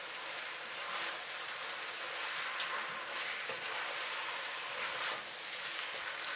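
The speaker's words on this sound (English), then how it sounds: "Add the shrimp. Stir for 30 seconds." Shrimp stir-frying with homemade short noodles for Cambodian lort cha gives a steady, even hiss of sizzling, moderately faint and continuous, without talking.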